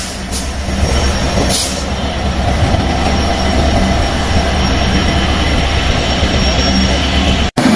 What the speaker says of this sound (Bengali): আর আরেকটা ট্রেন চলে গেল